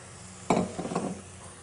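Crushed tomatoes, about one and a half cups, hit a hot pan of mutter paneer, giving a sudden wet splat and brief sizzle, followed by a few softer stirring clatters before it settles.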